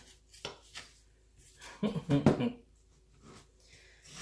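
A RADA paring knife slices through a big onion. It gives a few sharp, close taps on the board, with a short burst of voice partway through.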